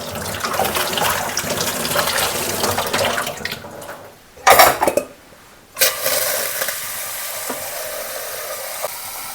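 Potatoes rinsed under a running kitchen tap, three of them washed before boiling for a kids' tiffin recipe; a steady close stream of water that cuts out briefly, then a louder splash-filled burst, then flowing resumes without speech.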